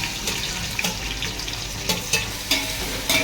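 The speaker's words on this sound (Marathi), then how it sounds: "छान आता परतून घेऊया कांदा आणि टोमॅटो" Onion and tomato sauté in a pan for chicken biryani, a close, steady sizzle with repeated scraping and tapping from stirring every half second or so.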